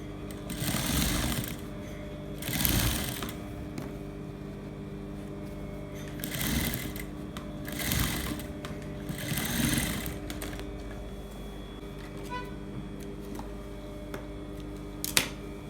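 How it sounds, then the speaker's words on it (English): Sewing machine top stitching a zipper lining, running in several short bursts of rapid stitching separated by brief pauses, fairly close and clear with no talk. "I'm going to top stitch it so it will relax"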